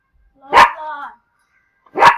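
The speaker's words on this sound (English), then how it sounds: "that is my dog barking" A pet dog barks twice indoors, a loud close bark with a short trailing whine, then a pause of about a second before a second sharp bark.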